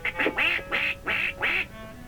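A duck character's nasal quacks sound in five quick, loud honks close up in a short burst, likely a voice imitating a duck in a cartoon.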